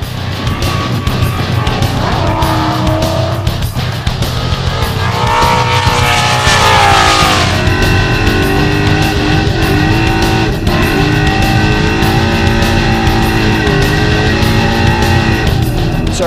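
A Ford Mustang RTR V8 with an X-Force stainless header and twin 3-inch exhaust drifts at a drift event, its engine roaring loud and steady with rising and falling revs and a surge of tire noise midway.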